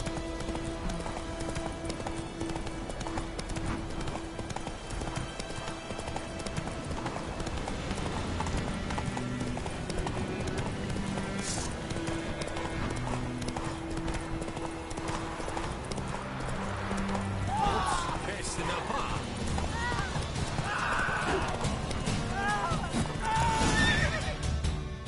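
Roach, a horse in The Witcher 3, gallops with rapid continuous hoofbeats and neighs several times over game music and ambience, with occasional voices in the scene.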